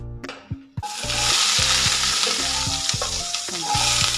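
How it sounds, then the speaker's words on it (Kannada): Half an onion tossed into hot oil for a sprouted horse gram sambar, an abrupt loud burst of sizzling that settles into a steady crackle, with spoon clanks against the pan. "ಈಗ ಇದಕ್ಕೆ ಅರ್ಧ ಈರುಳ್ಳಿಯನ್ನು ಸೇರಿಸ್ಕೊಳ್ಳೋಣ."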